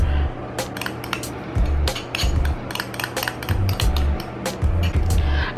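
Crushed graham crackers being stirred with butter in a bowl, with steady scraping, clinking and knocking strokes of a utensil against the bowl, close and continuous.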